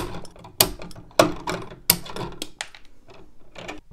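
14 gauge electrical wire is stripped and cut by hand tool, giving three sharp close snips and clicks roughly half a second apart, followed by softer scraping and fiddling.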